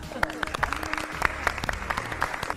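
In a TV studio, a small group claps briefly in quick, uneven beats, with voices audible underneath. The burst of applause is short and only moderately loud.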